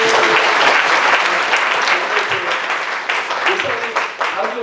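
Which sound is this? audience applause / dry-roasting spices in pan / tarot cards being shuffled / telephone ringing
audience applause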